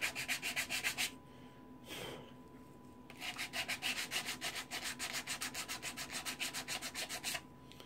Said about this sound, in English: I'm going to sand that little edge off a little bit.